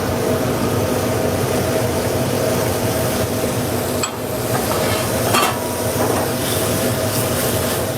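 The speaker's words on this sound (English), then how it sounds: "And we're going to add some onions." Onions sizzling in a hot pan while being stirred, a steady, loud frying hiss with scraping stir sounds throughout, part of a Thanksgiving dish.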